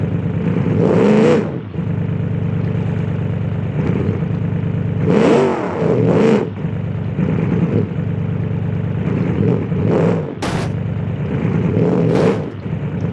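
A carbureted car engine in the BeamNG driving game revs hard in repeated bursts, climbing and dropping several times, loud and close with no talk over it.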